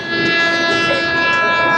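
A train passes near a railway track, sounding a loud, sustained horn-like tone that holds steady over a continuous rumble for the whole two seconds, with no talking.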